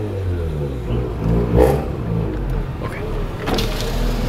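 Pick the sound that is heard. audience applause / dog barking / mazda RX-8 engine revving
mazda RX-8 engine revving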